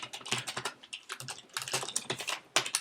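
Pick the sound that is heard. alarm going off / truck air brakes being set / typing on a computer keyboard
typing on a computer keyboard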